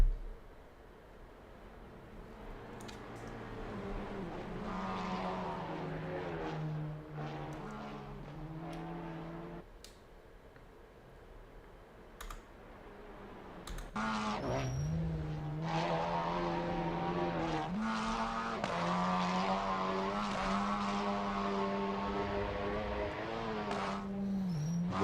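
Skoda Octavia race car from the Octavia Cup at Brands Hatch in Assetto Corsa cruising a victory lap, its engine droning steadily and rising and falling through gear changes, louder and fuller in the second half.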